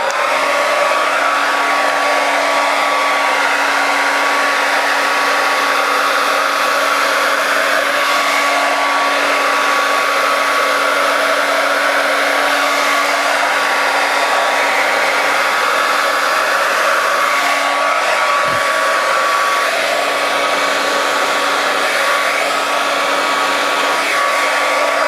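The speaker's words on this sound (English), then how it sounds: "I'm going to turn the hairdryer on" A hair dryer blows continuously at close range, a loud, even whirring roar with a steady high whine that never lets up.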